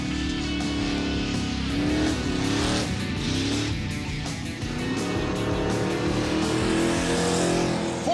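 Finnegan's car racing around a makeshift test track, engine roaring loud and close throughout with rising and falling revs as it accelerates and brakes through turns.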